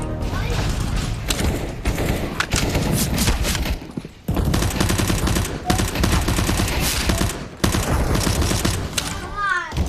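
Rapid bursts of automatic gunfire and single shots in a Counter-Strike: Global Offensive match, loud and near, firing in dense volleys with brief gaps, a short pause around the midpoint and a near-continuous barrage throughout.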